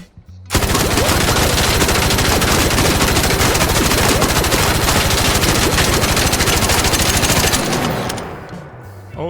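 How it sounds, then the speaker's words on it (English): Torrente machine gun with a 94-round magazine, fully modded at level 4, firing in Arc Raiders: one loud, sustained burst of rapid automatic fire lasting about seven seconds, then tapering off, with no talk over it. "the 94 round magazine Torrente. A beast of a weapon."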